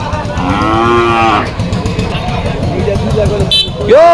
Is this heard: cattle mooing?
yes